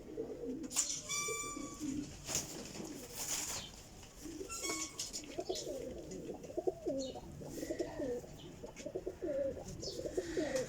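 Several pigeons, including golden and pearl-marked birds, coo repeatedly in soft throaty phrases close by, with occasional chirps and wing rustles among them.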